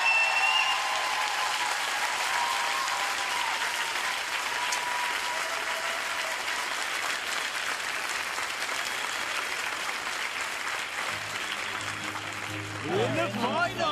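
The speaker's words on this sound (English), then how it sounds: "Let's hear a huge round of applause for these guys." Loud, sustained applause from an audience for a choir, a broad continuous roar of many clapping hands that holds steady throughout, with voices coming in near the end.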